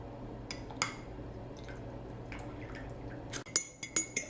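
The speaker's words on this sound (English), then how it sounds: "A spoon, and I'm just going to take out my tea bag." A spoon lifting a tea bag out of a mug of tea, faint clinks against the ceramic and a few soft wet drips, the sharpest taps clustered near the end in a quiet room.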